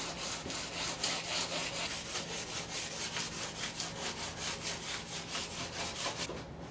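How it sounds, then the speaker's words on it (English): Rapid, rhythmic back-and-forth strokes of hand sanding, a steady dry scratching repeated many times a second, close by and continuous, with no talking. "I'm going to try to really sand that stuff down a little bit better"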